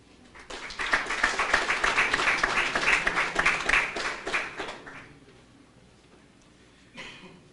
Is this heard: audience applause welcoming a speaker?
yes